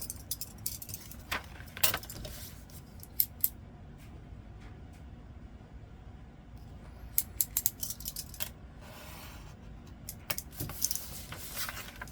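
Scissors trim excess paper from a junk journal page, giving repeated quiet snips and crisp paper rustles at close range, with a few sharper clicks and no talking.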